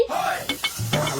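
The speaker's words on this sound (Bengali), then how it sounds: "দেখিস না আলু ভাজা করতেছি।" Potatoes frying in a pan at home, short bursts of sizzle and stirring scrapes close up over about a second, without speech.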